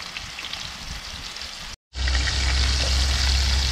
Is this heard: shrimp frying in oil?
yes